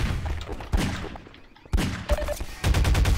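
An automated turret fires in the Half-Life 2 Synergy co-op game: loud, close bursts of rapid gunfire broken by short pauses, ending in a stuttering volley.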